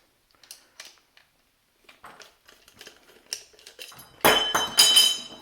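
Hex screws being removed from the battery cover of a CYMA CM.048M airsoft AKM, a sparse series of small metallic clicks and taps, then a louder clatter of parts near the end.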